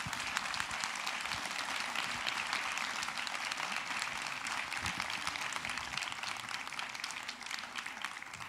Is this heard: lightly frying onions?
no